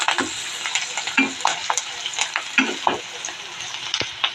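Sliced onions with salt and turmeric are stirred in a hot pan, giving a steady sizzle broken by regular scraping strokes of a spoon against the metal, close and alone.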